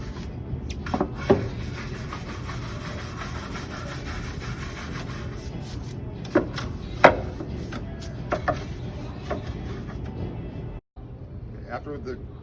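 A brush scrubs a floor during a cleaning demonstration, giving a continuous rough rubbing with a few sharper scraping strokes. A voice talks faintly underneath.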